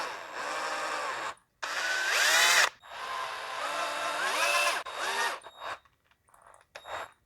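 A power driver whines steadily while a bolt is screwed into a metal ground spike for an airsoft trip-mine, rising in pitch under load in several close, loud bursts separated by short pauses.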